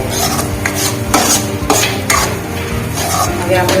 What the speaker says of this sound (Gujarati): બધું મિક્સ થઈ જાય ત્યાર પછી આપણે તેને થોડું હલાવીશું જેથી આપણા મસાલા બધા સારી રીતે મિક્સ થઈ જાય.